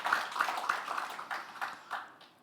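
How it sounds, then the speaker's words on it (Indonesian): A church congregation applauding for Jesus during a service, a soft, somewhat distant patter of clapping that fades gradually over a couple of seconds. "Yang setuju, berikan tepuk tangan dulu bagi Tuhan Yesus."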